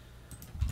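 A few quick keystrokes on a computer keyboard, soft and close, in a brief burst of clicks over a quiet room.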